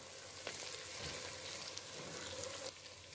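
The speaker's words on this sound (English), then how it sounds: "This is 5 minutes later of frying this on medium heat." Food sizzles steadily in a hot pan over medium heat, a continuous crackling hiss with small pops, fairly quiet and close, with no voices.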